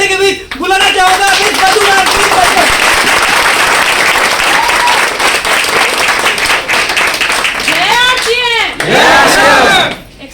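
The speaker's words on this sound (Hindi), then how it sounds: "आप लोगों की जोरदार ताली के बीच बुलाना चाहूंगा" Loud audience clapping and cheering at the opening of a Bhagalpur amusement park, a dense sustained roar of hands with shouts and whoops rising over it, and people talking near the start and end.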